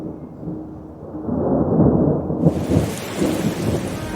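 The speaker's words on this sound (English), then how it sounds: "intense storms dumped as much as 3 inches of rain an hour" A heavy thunderstorm with downpouring rain in Louisiana, rain roaring steadily on surfaces while deep rumbles of thunder swell and build, loud and close, with no voices.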